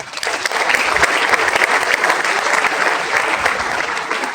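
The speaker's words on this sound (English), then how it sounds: "she deserves a great round of applause" At a felicitation ceremony for SSC and HSC grade A-1 achievers, an audience gives a loud, close round of applause, a thick, continuous clatter of many hands holding steady throughout.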